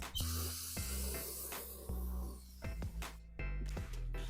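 Brake cleaner sprayed onto the valve cover of a 2018 Ford Escape 2.5L engine, heard as a series of short, close aerosol hisses in separate bursts over a low steady hum.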